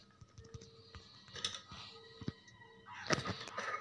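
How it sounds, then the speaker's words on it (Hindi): Faint, scattered clicks sound inside the house in the horror game Granny 2, a quiet, irregular run of sharp taps with no talking. "अरे कुछ क्लिक जैसी कुछ आवाज आ रही है।"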